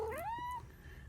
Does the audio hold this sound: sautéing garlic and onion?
no